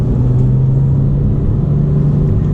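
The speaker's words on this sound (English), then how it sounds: "hopefully you got to hear the GT3RS's exhaust" Porsche 911 GT3 RS exhaust on a winding road, manual transmission, a steady deep drone that stays loud and continuous throughout, as if heard from a following car.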